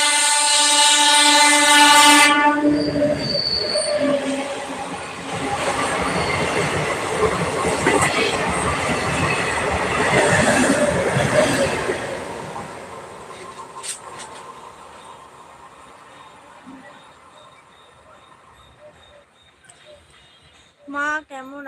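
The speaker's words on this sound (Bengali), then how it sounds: "ট্রেন আসছে, ট্রেন।" A train rolls into a station and passes close by, opening with a loud horn blast and then a long rumbling roar of wheels and carriages that slowly fades, with people talking nearby.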